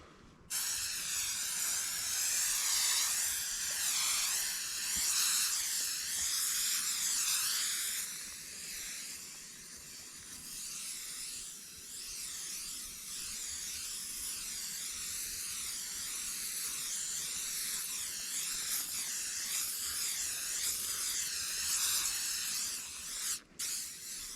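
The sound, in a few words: spraying seam sealer on tipi tent bottom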